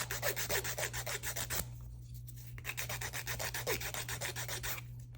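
A hand nail file, on its 180-grit side, rasps back and forth across acrylic nails in quick, even strokes, close and steady, with a short pause before the rhythmic filing resumes.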